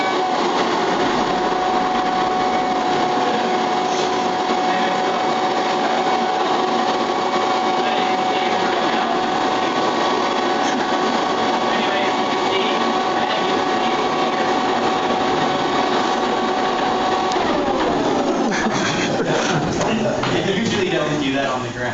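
A hovercraft's lift-system vacuum motor runs loud and steady with a high whine, continuous throughout, wavering slightly toward the end as it drops off.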